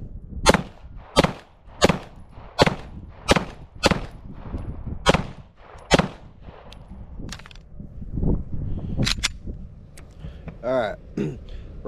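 Beretta M9A3 pistol fired at a steel target 50 yards out, giving about nine sharp, evenly spaced shots with a faint metallic ring after several, then a short burst of talk and a few more shots near the end.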